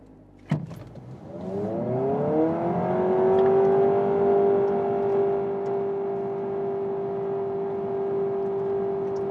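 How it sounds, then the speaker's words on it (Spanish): A 2026 Honda Prelude e:HEV hybrid launches from 0 to 100 km/h in Sport mode, starting with a sharp click and then a rising engine and electric whine that climbs and settles into a steady, loud drone inside the cabin. "Eso fue la aceleración de 0 a 100 km por hora."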